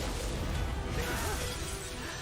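A sword shatters in an animated death battle between Jonathan and Tanjiro, a dense, loud, sustained crash of breaking metal and debris that fills the whole moment without a break.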